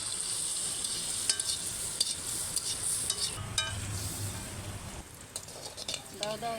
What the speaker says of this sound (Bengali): এটা ভেজে নিচ্ছি